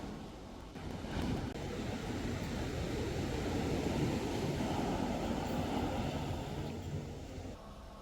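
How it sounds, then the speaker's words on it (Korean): Large surf waves break and wash in steadily along Dreamland Beach in Bali, a continuous loud roar of rushing water with no talking over it. "파도가 꽤나 커서 서퍼들이 많더라고요."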